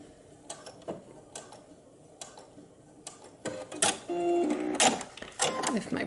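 Sewing machine stitching a knit V-neck neckband: quiet ticks and clicks at first, then a louder burst of rapid mechanical stitching with a whirring motor toward the end.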